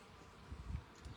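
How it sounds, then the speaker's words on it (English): A bee buzzing close by among white cactus flowers in bloom at night, a short faint droning hum that swells briefly. "Here's a bee struggling and"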